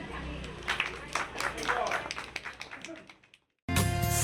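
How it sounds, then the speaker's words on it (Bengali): An audience claps at a school Saraswati Puja certificate ceremony, with irregular handclaps over background noise that fade out into a brief silence before loud music abruptly begins. "রূপার জন্য জোরে হাততালি।"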